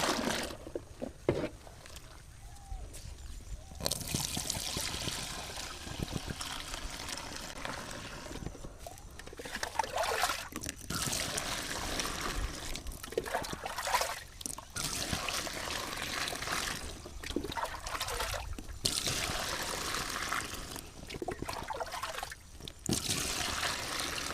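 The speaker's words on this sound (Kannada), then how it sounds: "ನೋಡಿ ಚೆನ್ನಾಗಿ ಮಿಕ್ಸ್ ಮಾಡ್ಕೋಬೇಕು" Liquid plant medicine spray solution for diseased flowering plants is stirred and mixed. The water sloshes and trickles steadily and up close, with short pauses and shifts in the splashing.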